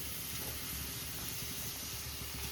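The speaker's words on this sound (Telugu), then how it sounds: "చక్కగా ఈ నెయ్యిలో ఈ క్యారెట్ దోరగా వేగాలి" Grated carrots frying in melted ghee in a pan, a soft, steady sizzle and hiss that stays even and fairly faint throughout.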